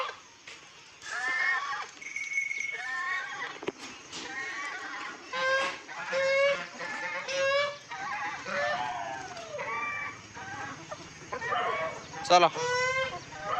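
Chickens released in a rainy village yard cluck and squawk in a busy, overlapping chorus, with a crow or two, while people talk nearby.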